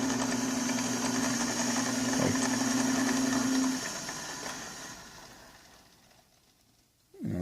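A Delta Milwaukee DP220 double-head drill press runs with a steady mechanical whir and a constant tone, then its motor shuts off and the sound winds down gradually, fading to near silence before a brief clunk at the end.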